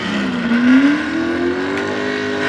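Pro Stock 4x4 pulling truck on its first pull run at a Western PA truck and tractor pull, engine roaring loud and steady with pitch climbing gradually as it works down the track, no talk.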